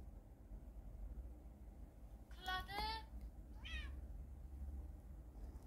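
A domestic cat meows twice in a household, two short rising calls about a second apart, close and clear over a steady low background hum.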